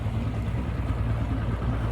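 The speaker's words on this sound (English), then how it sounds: "Oh, here comes a boat. I think they're going out fishing." A fishing boat's motor drones past at close range on a lake, a steady low rumbling engine over churning water.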